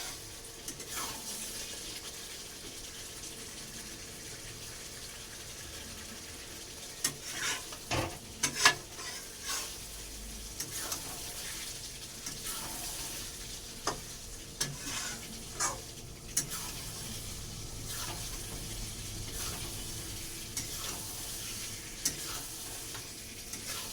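Chicken frying in a pan with a spoon stirring it, a continuous sizzle broken by repeated scraping strokes and light knocks against the pan at an irregular rhythm, close and clear, with no voices.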